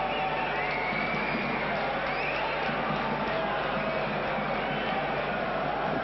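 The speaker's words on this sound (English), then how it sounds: "Crowd responding to the hit that Lindros threw as a puck went around the back of the Finnish goal" A broad, continuous roar rises from the arena crowd after Eric Lindros lands a body check behind the Finnish goal in a 1993 ice hockey world championship quarterfinal between Canada and Finland, heard through thin, muffled broadcast sound.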